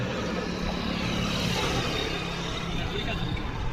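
A Mahindra Bolero 1.3 pickup is driven, its engine and road rumble steady and close throughout, with faint voices in the background.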